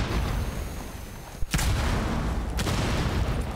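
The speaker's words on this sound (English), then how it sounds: "And explosions are just going left and right all over the place." Explosions and gunfire in the Rainbow Six video game: a dense, steady crackling roar of battle noise with a couple of sharp bursts standing out, loud and continuous throughout.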